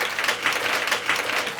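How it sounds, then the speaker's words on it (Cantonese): Audience applause at a Hong Kong inter-school singing contest as the youngest contestant comes on: a short burst of dense, steady clapping from a crowd in a hall. "咁我哋俾啲掌聲"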